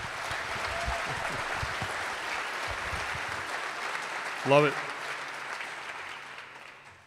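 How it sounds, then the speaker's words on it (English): A crowd at a high school sports awards night gives a round of applause, a broad wash of clapping heard at a distance while a voice briefly speaks over it. "Round of applause for her?"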